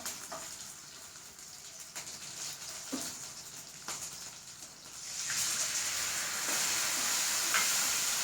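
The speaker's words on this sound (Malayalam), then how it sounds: "പുളിവെള്ളം അങ്ങോട്ട് ഒഴിച്ചു കൊടുത്തു" Tamarind water goes into a hot pan for a green chili and yogurt curry, and a soft hiss swells into a steady, louder sizzle that continues alone after a few faint stirring taps.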